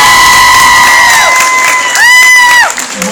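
An audience at a guest event cheering loudly for a guest named Vic, dense crowd roar with high shrill whoops and sustained whistle-like cries rising and falling throughout.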